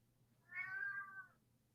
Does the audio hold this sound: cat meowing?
yes